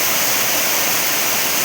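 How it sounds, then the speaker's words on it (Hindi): Waterfall at Asurkhol pours in a steady, loud broadband rush of falling water, constant throughout with no voices. "तो गाइस ये देखो वाटरफॉल"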